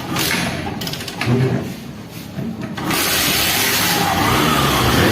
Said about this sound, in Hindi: इस बाइक को मैं किक से स्टार्ट करके देखता हूँ